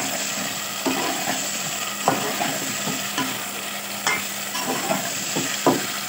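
Chicken browning in a pan, with a constant loud sizzle and periodic scraping knocks as it is stirred, close up and with no one speaking.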